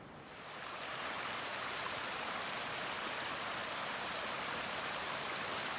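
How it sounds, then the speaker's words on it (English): Small creek flowing beside a mountain hiking trail at about 2,600 feet in the North Cascades of Washington, with snow nearby; a steady, close, full rushing of water that swells in over the first second and then holds evenly, with no voices. "Little creek on the side of the trail here."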